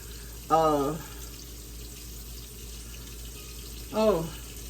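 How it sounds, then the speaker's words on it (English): Water pours from a tap into a cooking pot in two short bursts, each under half a second, the pitch rising as the pot fills, with quiet kitchen background in between. "I'm going to add some more water"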